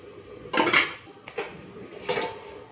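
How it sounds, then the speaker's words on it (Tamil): Metal lid lifted off a cooking pot of Tamil butter bean kuzhambu, a few short close clanks and scrapes of metal against metal with brief pauses between, no talking. "மூடி வச்சிடலாம் இப்போ திறந்து பார்க்கலாம்"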